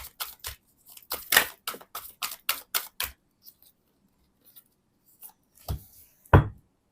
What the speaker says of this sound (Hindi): मैंने आप लोगों के लिए कार्ड्स निकाल लिए हैं